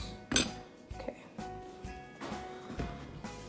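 Hamster treat ingredients, pellets with a little honey, stirred in a bowl, giving a series of light clinks and scrapes of utensil against dish spaced irregularly over a few seconds, fairly quiet and close.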